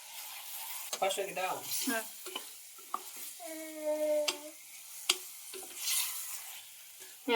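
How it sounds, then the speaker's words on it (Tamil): Prawns sizzle quietly in a pan while a utensil scrapes and stirs, with a few sharp clinks and a voice talking over it. "இப்போ வந்து கொஞ்சம் எண்ணெயில் வந்து எறா வதங்கி வந்துடுச்சு"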